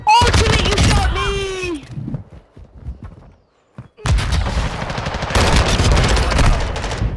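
Bursts of automatic gunfire in the video game Call of Duty: Modern Warfare II, loud and close, broken by a brief lull with voices before dense rapid firing resumes.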